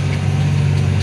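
Tractor engine droning steadily while disking a 30-hectare field ahead of planting cowpeas, a loud, low, continuous rumble heard from inside the cab with no voices.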